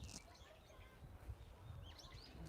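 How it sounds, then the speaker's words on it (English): Birds chirp and tweet overhead in a quiet graveyard where cherry blossoms bloom in Japan, with short, thin calls over a steady outdoor background and no talk. "The birds above us."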